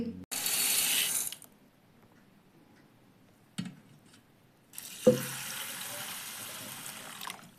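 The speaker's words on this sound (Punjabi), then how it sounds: "ਇੱਥੇ ਪਾਣੀ ਕਰ ਲਿਆ ਜੀ ਆਪਾਂ ਨੇ ਕੋਸਾ" Lukewarm water running from a tap for soaking lentils, heard as two bursts of rushing flow, a short one at first and then a longer one, with a clunk of the tap between them, close by.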